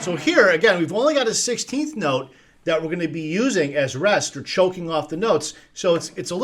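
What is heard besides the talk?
No everyday noise stands out behind the speech.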